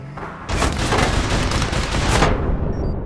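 Shotgun fire in the online shooter APB Reloaded, a dense loud burst of blasts lasting about two seconds before cutting off.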